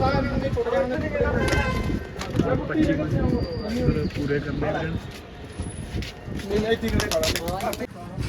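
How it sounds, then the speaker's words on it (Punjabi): Pigeons coo in a low, throaty murmur at a pigeon-flying competition, with people talking over the birds throughout. "ਪੰਜ ਕਬੂਤਰ ਹੋਰ ਆ ਗਏ"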